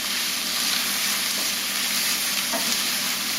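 Onions and carrots sizzling and frying in a pot while being stirred, a steady bright crackle with soft scraping from the spoon, close and alone.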